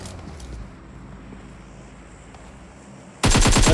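Gunfire rattles in the mobile battle-royale game PUBG Mobile, with some distant shots and background rumble, then a sudden loud burst of close automatic fire crashes in at the end.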